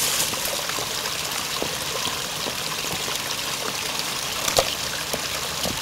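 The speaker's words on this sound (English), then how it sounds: "right close to me is a beautiful creek where I'm going to set up my base for tonight" A creek in rolling plains flows over rocks with a constant close babble and trickle, small splashes popping out of the steady wash, with no voices.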